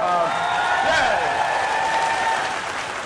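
Audience applause at a live talk-radio event, a dense steady wash of clapping lasting the whole stretch with voices talking over it.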